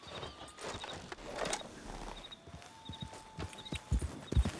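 Horse hooves clip-clop at a walking pace in Red Dead Redemption 2, close by, with soft rhythmic thuds over a quiet ambient background.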